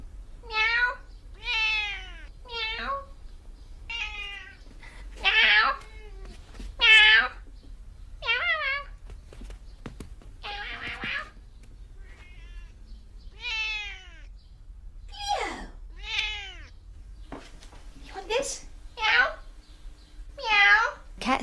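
Siamese and Burmese cats meow repeatedly, a string of loud, close, drawn-out wailing calls arriving in irregular bursts with short pauses between them, and a human voice imitating the meows mixed among them.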